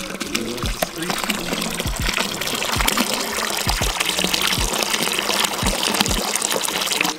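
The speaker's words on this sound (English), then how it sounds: "I came down here and there's, you know, a little spout that's just spouting water" Spring water spouts from a small outdoor spout in a steady close gush and splash, with brief drips breaking through the continuous flow.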